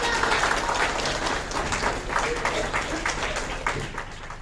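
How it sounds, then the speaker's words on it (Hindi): Loud, dense clapping from a crowd of children at a Republic Day celebration at an ashram, sustained steadily throughout with faint voices mixed in. "बच्चे, एक बार मामा जी के लिए भी जोर से तालियां।"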